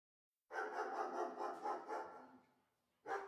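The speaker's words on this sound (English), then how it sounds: "They could hear more dogs barking not far away." Dogs barking in the woods, a quick run of several close barks followed by a pause and one more bark.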